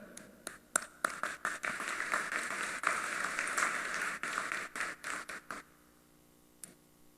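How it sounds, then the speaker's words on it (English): A graduation ceremony crowd at a community college claps steadily, a dense, fairly distant patter that thins into a few scattered claps and then fades to quiet. "Do accept my resounding round of applause for a job well done."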